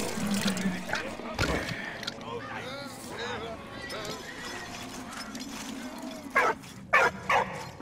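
A dog barks in the World War I game Valiant Hearts: The Great War, with short sharp bursts near the end standing out over busy game sounds and a voice.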